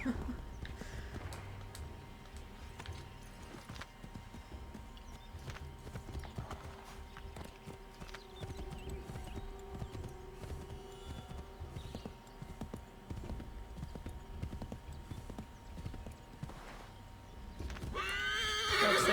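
Rhythmic hoofbeats of a horse in the video game Assassin's Creed III clip-clop steadily over a quiet ambient hum, ending with a loud neigh; a voice speaks briefly in the background.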